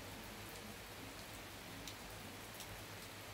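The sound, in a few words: rain falling outside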